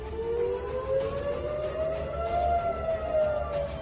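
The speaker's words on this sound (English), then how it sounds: "Sirens were also sounded across the Tel Aviv area, warning residents of incoming attacks" Civil defense air raid sirens wail across Tel Aviv, a steady rising and falling tone that carries loud and continuous over a low rumble, with no voices.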